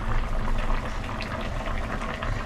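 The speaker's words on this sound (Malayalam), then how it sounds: "നമ്മുടെ കറി നന്നായിട്ട് തിളച്ച് വെന്ത് വന്നിട്ടുണ്ട്" A prawn curry with mango and drumstick bubbles steadily in a pot, giving a continuous close-up simmering and popping texture with no talking.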